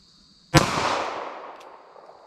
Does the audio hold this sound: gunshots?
yes